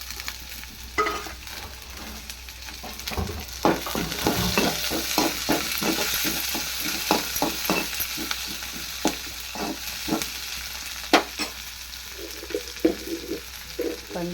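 Green chillies, curry leaves, coriander, salt and turmeric fry in hot oil with a steady sizzle, broken by repeated stirring scrapes and knocks of a spoon against the pan, close by and without talk.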